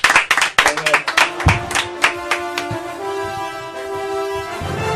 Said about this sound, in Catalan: Un fort aplaudiment pel Magramó, sisplau.